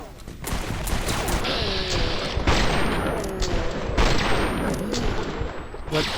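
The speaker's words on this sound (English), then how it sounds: "What is shooting me now?" Dense, continuous gunfire in modded Fallout: New Vegas, loud booming shots layered into a constant roar with heavier reports recurring every second or two.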